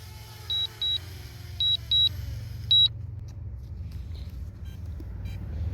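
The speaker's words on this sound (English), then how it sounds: "And it's beeping at me." Five short, high electronic beeps in quick pairs ring out close by from a DJI Mavic Mini drone after landing, over a low, steady rumble, then stop.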